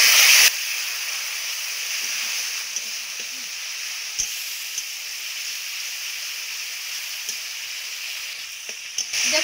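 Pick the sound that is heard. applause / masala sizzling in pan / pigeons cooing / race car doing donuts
masala sizzling in pan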